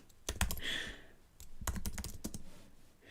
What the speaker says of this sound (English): I started typing your name